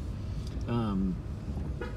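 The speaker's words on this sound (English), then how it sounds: "we've got somebody honking at us" A single car horn honks once at a car from close by, short and sharp, while the listener drives through a town on a tree tour, with traffic noise and a voice under it.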